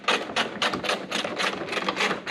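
A ratchet tightens a 10mm or 12mm bolt on a 2015 Hyundai Sonata headlight, making close, quick bursts of clicking in a steady back-and-forth rhythm with no talk.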